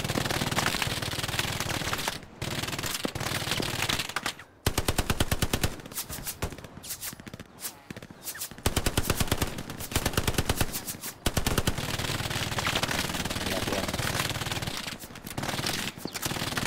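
Sustained automatic gunfire from the World War II shooter game Hell Let Loose, loud continuous bursts of rapid shots with brief pauses between volleys, filling the whole stretch without talk.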